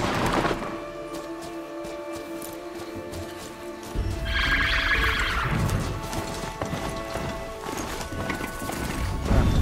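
A horse in the video game Horizon Zero Dawn clip-clops with rhythmic hoof beats, and a whinny breaks in partway through over layered game sounds, with no talking.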